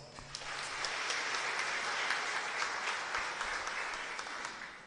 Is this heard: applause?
yes